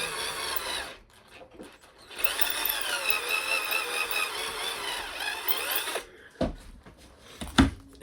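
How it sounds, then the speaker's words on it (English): A power drill bores a hole through a shotgun choke tube in a kitchen, its steady grinding whine running for about four seconds before cutting off, followed by a few sharp metallic knocks. "So we're going to have a nice straight hole by just taking 30 thousandths a shot off."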